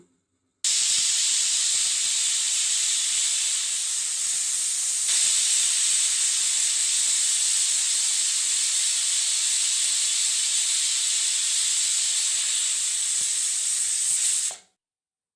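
A loud, steady hiss of steam escaping from a pressure cooker runs unbroken for about fourteen seconds, bright and close, then cuts off abruptly.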